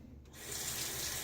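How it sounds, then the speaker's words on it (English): Tap water runs steadily into a sink as a Parker Variant razor is rinsed, a brief, close, even rush of flowing water. "Rinse it off."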